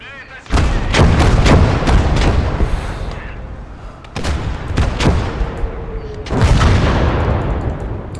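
Heavy artillery gun fire in the WWII strategy game Gates of Hell: Red Star Rising, with several loud booming shots and rumbling blasts rolling out in repeated waves, mixed with battlefield noise and a little talk.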